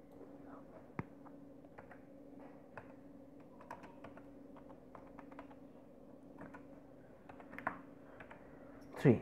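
Keys on a computer keyboard tapped in irregular bursts, faint and close, over a quiet steady hum, with a louder knock at the very end.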